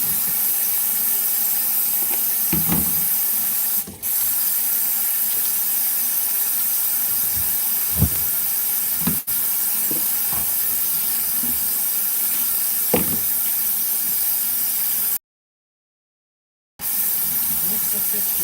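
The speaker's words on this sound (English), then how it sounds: "so now I'm gonna rinse the fish" Water runs steadily from a kitchen tap while fish seasoned with salt and lime is rinsed, a continuous hissing stream with brief clatters, interrupted near the end by a short silence.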